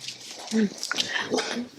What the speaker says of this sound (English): another dog is walking by the house and I don't have time to hear them barking at it